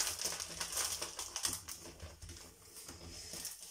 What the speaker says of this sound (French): ça fait un peu de bruit. Donc j'ouvre le sachet